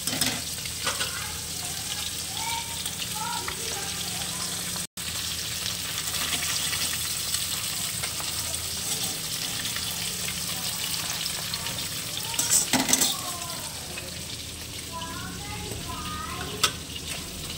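Cluster figs fry in a pan for a Bengali meal, with a dense, constant sizzle at close range, scattered spatters and a brief burst of louder crackling partway through, no talking.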